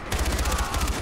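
Rapid repeated gunfire from Far Cry 4, a quick train of booming shots in an even rhythm, loud and close, filling the whole brief moment.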